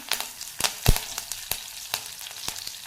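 Mustard seeds, cumin, asafoetida and curry leaves hit hot oil for Maharashtrian upma, making a faint, steady sizzle broken by sharp, scattered crackling pops, close by and with no talking.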